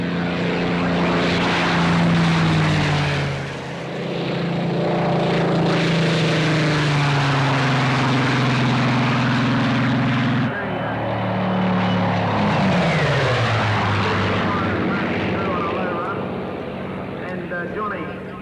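A Spitfire fighter plane at the Warbirds Over Wanaka 1994 airshow in New Zealand takes off, its propeller engine roaring loud and sustained, with pitch shifting as it climbs, while a narrator talks over it.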